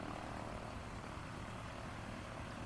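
A Piper Dakota's 235 horsepower six-cylinder Lycoming IO-540 engine in the video game Microsoft Flight Simulator 2024 drones steadily as a faint, continuous propeller-engine hum with no talk.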